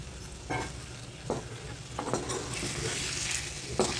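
Chunks of taro (colocasia) sizzle steadily in hot oil while a ladle stirs and scrapes the pan gently, with a few soft clanks punctuating the constant frying hiss.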